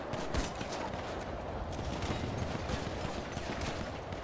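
Dense, continuous gunfire in a 3v3 arena match of a video game, steady bursts of shots crackling throughout with no pauses, fairly loud and close.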